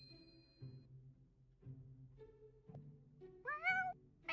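A cat meows in The Sims 4, a short rising and falling call near the end over soft, steady game background music.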